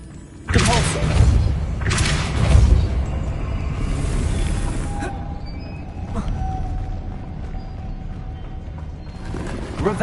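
Depulso, a force-push spell cast in Hogwarts Legacy on PS5, lands as heavy thuds and booms, two strong impacts early followed by lingering rumble and clatter, with more thumps near the end.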